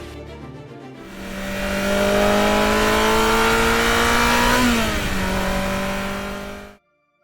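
A Ferrari F355 with its 3.5-litre naturally aspirated V8 revs up hard and holds a loud, rising high-pitched wail, then the pitch dips briefly and climbs again before cutting off abruptly.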